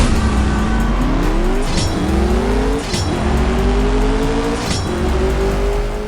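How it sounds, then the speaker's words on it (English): A McLaren 720S engine in a racing video game revs through the range in repeated rising sweeps, loud and close, with brief breaks between pulls and no talking. "there's a big difference between what an engine sounds like. If it's either on full throttle, it's going up to the rev range or down to the rev range"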